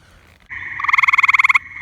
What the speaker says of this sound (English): just spotted the first gray tree frog calling.